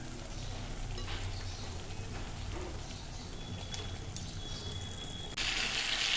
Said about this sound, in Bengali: ওই তেলের ওপরেই পেঁয়াজ ছেড়ে দিলাম খানিকটা